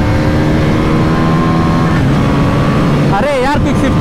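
A 2024 Bajaj Pulsar NS400Z motorcycle accelerates hard during a long race against a KTM RC390, its loud, continuous engine drone climbing in pitch toward the end, with a voice talking over the noise.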